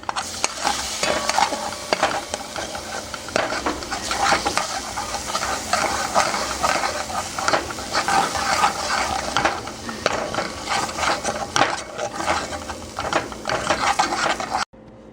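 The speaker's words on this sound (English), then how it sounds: "in a pan I have a tablespoon of tomato paste and some minced garlic. And let that cook for a little bit." Tomato paste and minced garlic cook in a pan, with a soft steady sizzle under repeated scraping and stirring clicks from a utensil, close by and with no talk.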